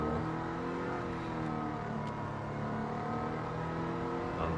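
A car engine revving steadily with a sustained drone, its pitch shifting slightly, close and continuous throughout with no talk.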